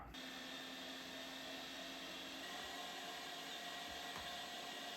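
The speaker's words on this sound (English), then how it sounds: "You can't make a hamburger without grinding some meat, right? First grind through." An electric meat grinder runs on Costco brisket, a steady, close motor whine with a constant hum that continues throughout with no speech.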